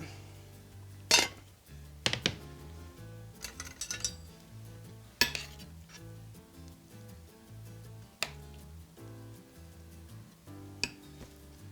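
A spoon scrapes and clinks against a plate and pots while mashed potato and roast sirloin are plated, sharp scattered knocks over a faint background with no talk.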